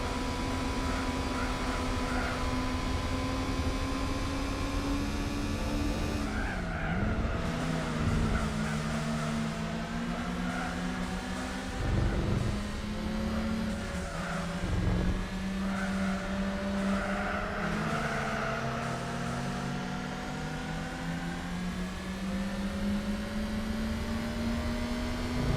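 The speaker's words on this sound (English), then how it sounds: "Listen to that engine, people." Race car engine in the video game Gran Turismo 4, a steady droning tone that rises and dips as it shifts and changes pitch, loud and continuous for the whole stretch with no talking.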